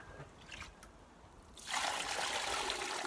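Soupy homemade liquid plant feed full of straw and root bits pours through a sieve into a watering can, a steady close splashing trickle that starts suddenly after some quiet handling noises.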